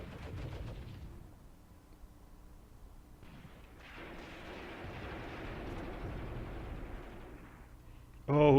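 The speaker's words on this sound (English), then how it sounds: "my artillery will fall there soon" Artillery barrage in the war game Graviteam Tactics, a low rumbling roll of distant blasts that swells and thickens midway, with a louder sharp burst at the very end.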